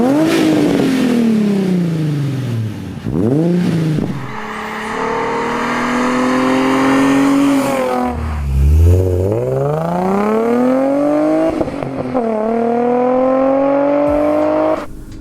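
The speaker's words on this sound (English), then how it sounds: "This exhaust sounds really good. Like, it's like a little louder than stock." Nissan 350Z with an Invidia Gemini catback exhaust revving hard, its engine note climbing and dropping through repeated loud rev sweeps with no talking over it.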